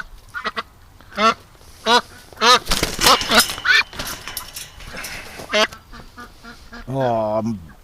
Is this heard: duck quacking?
yes